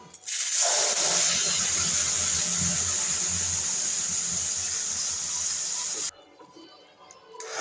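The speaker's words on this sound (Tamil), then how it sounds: "நல்லா பொரிஞ்சதும் சூடான வெந்நீரை விடணும்" Hot water poured into a ghee-heated pan of fried ingredients for sago payasam sets off a loud, steady sizzling hiss lasting about five seconds, then cuts off abruptly into quiet.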